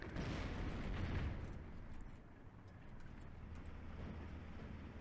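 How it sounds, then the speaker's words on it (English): Rumbling artillery fire and explosions from a Steel Division 2 battle, a heavy boom swelling in the first second then fading into a steady, distant low rumble of continuing bombardment. "Lots of artillery flying."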